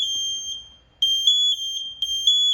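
MSA G1 SCBA second-stage alarm sounding as a loud, piercing high-pitched electronic tone, close by, pulsing in repeated bursts with a short gap near the middle.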